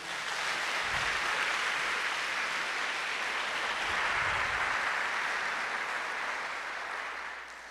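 Steady audience applause at a Portuguese-language church sermon, sustained and broad for several seconds with a couple of low thumps, fading slightly at the end.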